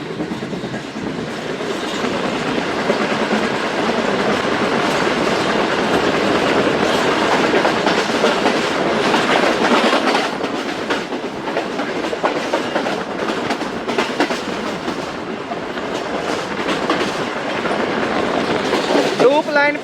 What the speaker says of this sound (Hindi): ट्रेन अप्रोच कर रही है फिरोज़ा रेलवे स्टेशन।